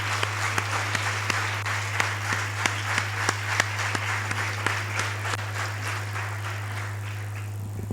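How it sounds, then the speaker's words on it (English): An audience after a stage performance of My Fair Lady gives a loud, sustained round of applause, a dense roar of clapping with crisp individual claps on top, steady over several seconds above a constant low electrical hum. "very loud round of applause"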